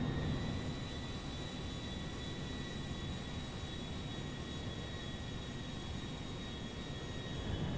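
Airbus A340-300 airliner cruising in GTA 5 over Los Santos: a steady, unbroken broadband engine roar with a faint high whine, constant and loud for the whole stretch, with no voices.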